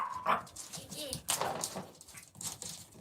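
A dog plays with a cat toy, giving short yips, whimpers and soft barks at close range amid faint rustling.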